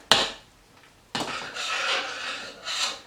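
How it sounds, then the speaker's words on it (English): Metal spoon scraping and scooping thick mushroom soup out of a cooking pot, one sharp clink followed by a second scrape and a drawn-out rubbing drag, close and moderately loud. "it's not wanting to really come out of the this pot, so I'm going to spoon some in"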